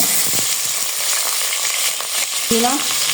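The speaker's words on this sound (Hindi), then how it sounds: "यहाँ पे मैं सौते करी हूँ वेजिटेबल" Vegetables sautéing in a hot pan with a steady broadband sizzle throughout, plus a few faint utensil scrapes and stirs, and a short tonal clink late on. No one speaks.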